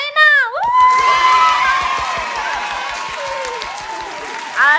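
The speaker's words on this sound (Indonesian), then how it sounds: "Sekarang kita kasih tepuk tangan untuk Shaina." An audience claps and cheers loudly for the winner of a hula hoop contest, bursting in after a shrill whoop and then holding a dense, steady round of applause before a final shout.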